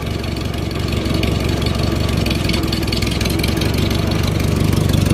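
A 1952 Studebaker 2R5 tractor fitted with a Super 8 engine idles steadily and close by, a loud, even, rumbling run with a rapid regular pulse and no talk.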